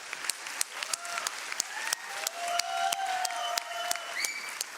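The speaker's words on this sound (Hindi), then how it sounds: "जोरदार तालियां हो जाए।" Rhythmic group clapping at a birthday celebration keeps a steady beat while voices sing Happy Birthday along over it.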